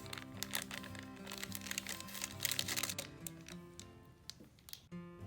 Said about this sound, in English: Go ahead and pour it into the pitcher.